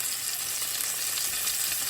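Chicken pieces frying skin side down in a pan, a steady bright sizzle close by, even and unbroken for about two seconds.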